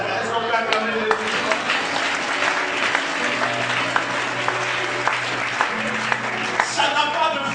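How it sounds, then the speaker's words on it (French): Congregation applauding in church, a steady wash of many hands clapping throughout with scattered louder claps and voices mixed in. "Est-ce qu'on peut acclamer les autres?"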